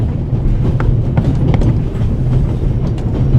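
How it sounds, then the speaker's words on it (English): Constant loud rumble and rattle of a moving train carriage aboard the Orient Express in a video game, with steady clickety-clack and scattered metallic clicks, unbroken throughout. "The noise on this train is driving me crazy."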